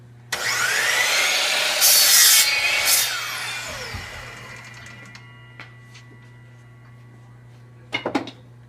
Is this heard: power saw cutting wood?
yes